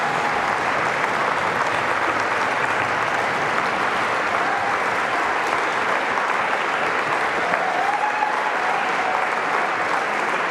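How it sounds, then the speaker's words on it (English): Big audience applause at the closing session of a Django software conference, steady, dense and sustained at even loudness throughout, with no talk over it. "Can we just have a massive round of applause?"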